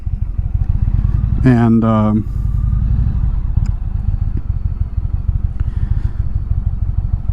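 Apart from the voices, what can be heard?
motorcycle riding with clutch engaged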